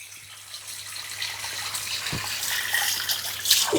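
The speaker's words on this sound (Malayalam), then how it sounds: "അപ്പോൾ ഈ ടാങ്ക് ഇതിലേക്ക് നമ്മൾ വെള്ളം നിറച്ച് ഇടാൻ പോവാണ്." Water runs steadily into the tank of a low-cost cladding stone fountain, a continuous hissing gush that builds slightly louder toward the end, with a faint low hum underneath and no talking.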